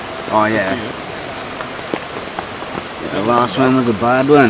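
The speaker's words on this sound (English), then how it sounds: "It's the first time we've experienced rain" Rain pattering on tent canvas at a weekend camp in torrential rain, a steady broadband hiss with scattered droplet taps, while people talk over it at the start and end.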